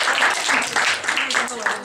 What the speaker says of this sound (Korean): 한수 가르쳐줘서 고맙다고 남성들이 저 자매에게 박수를 한번 합시다.